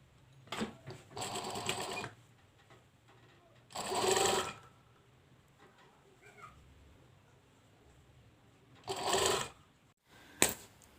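A sewing machine joins a sleeve to a shoulder seam in short, slow bursts of stitching, four separate runs of rapid ticking separated by quiet pauses, ending with a sharp click.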